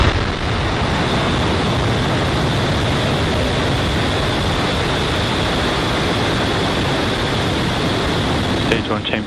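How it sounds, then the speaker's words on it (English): A Falcon 9 rocket roars at ignition and liftoff, a loud, steady, broadband rumble that fills the whole stretch without a break. "Ignition and liftoff"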